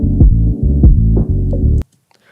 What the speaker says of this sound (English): And this is even deeper low pass.